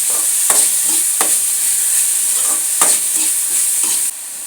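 Carrot, onion, ginger and green chilli sauté in a pan for upma, a continuous bright sizzle punctuated by repeated scraping strokes of a spatula, close and fairly loud.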